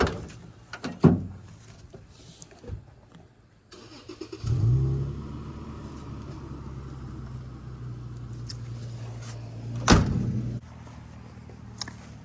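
Doors on a 1954 Kaiser classic car shut with solid thumps, one early and one sharp slam later, while an engine starts and idles nearby.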